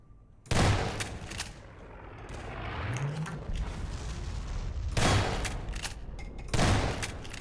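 Shotgun blasts in the game Half-Life, three sharp, loud booms spaced a few seconds apart, each with a short echoing tail, over a low background rumble and a brief rising whine.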